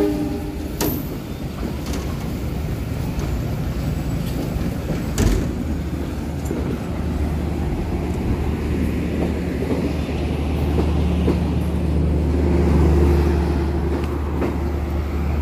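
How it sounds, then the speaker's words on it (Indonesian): A Bandung Raya local commuter train pulls into a busy station on track 3 with a steady loud rumble and clatter of wheels. Brief horn tones and occasional sharp knocks sound over the rolling noise. "Kereta api lokal Bandung Raya ini masuk di jalur 3."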